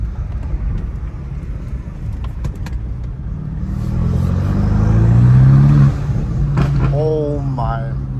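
A straight-piped BMW M5 Competition revs loud and close, its exhaust note rising into a sustained roar before dropping back, with a voice briefly reacting near the end.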